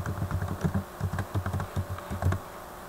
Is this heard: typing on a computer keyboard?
yes